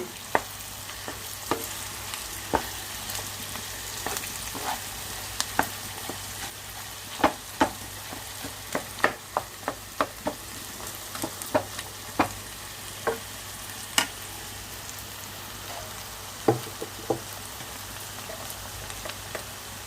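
Boiled, mashed potatoes frying in a pan: a steady, close sizzle broken by frequent sharp clicks of stirring against the pan, with no voices.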